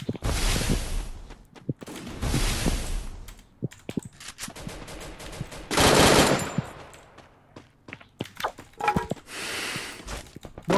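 Machine gun fire in a video game, several loud bursts of rapid automatic shots separated by short gaps, with scattered single clicks and shots between them, close and prominent, with no talking.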